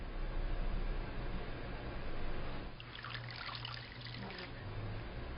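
Water trickles and splashes softly as a washcloth is wetted in a wash basin during elderly care bathing, a faint, close, continuous dribble with no talking.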